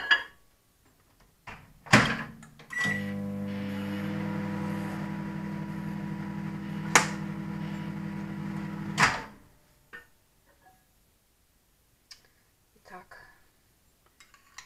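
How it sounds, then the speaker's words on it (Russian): A microwave oven heating gelatin hums steadily for about six seconds, framed by the clunk of its door opening and closing and a sharp beep, with quiet clinks before and after. "Снова ставим микроволновку опять на 6 секунд."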